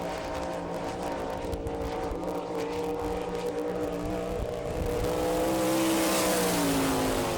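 Race car engine on a qualifying lap at an All Star Circuit of Champions sprint car event in Rossburg, Ohio, a sustained loud drone with rising and falling pitch, building toward the end.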